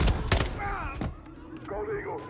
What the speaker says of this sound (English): I'm trying not to shoot these civilians